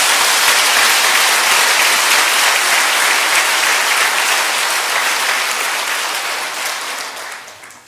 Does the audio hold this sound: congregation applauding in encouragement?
yes